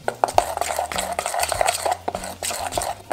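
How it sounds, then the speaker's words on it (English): Utensil stirring a lemon, parmesan and herb mixture in a bowl, with repeated scraping and clinking strokes in an uneven rhythm, close and fairly loud against a low background hum. "I'm basically just gonna stir this all together until it's nice and combined."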